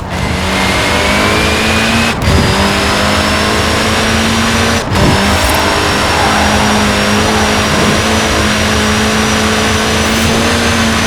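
A Mini Cooper S engine in the Forza Horizon 4 racing game revs loud and close, holding a steady drone that climbs in pitch, with two sharp breaks as gears shift.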